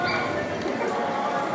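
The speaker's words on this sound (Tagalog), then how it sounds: "Ayun, mga aso." Dogs bark amid dense, noisy surroundings at the SM North shopping area, the barks blending into a constant loud wash of background sound.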